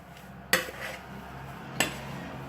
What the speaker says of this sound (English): So just mix it up in the mixing bowl.